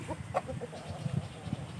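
A fighting rooster clucks in short, scattered bursts over steady outdoor background noise, fairly close but not loud.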